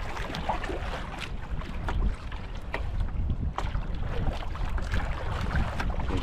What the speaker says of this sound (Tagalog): Ang laki na ng alon.